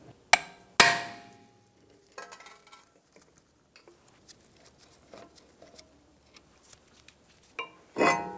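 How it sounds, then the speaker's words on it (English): Impact driver and hammer used on the Phillips rotor screws of a 2013-2017 Honda Accord front brake: a few sharp metallic hammer strikes with ringing, then scattered small clinks and taps, closing with another loud impact. "I'm using an impact driver and a hammer."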